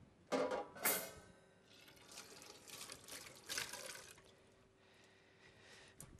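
Water runs and splashes quietly as washed ingredients for fish pakora drain in a colander in a kitchen, with a couple of sharper splashes early and softer trickling after.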